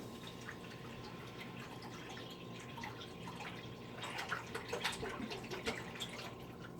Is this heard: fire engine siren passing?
no